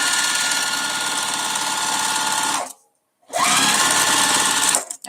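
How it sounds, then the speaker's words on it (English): A sewing machine stitches gingham strips in a loud, close, rapid mechanical whir, stopping abruptly for about half a second before starting again and running on. "hopefully you can hear me talking over the sewing machine"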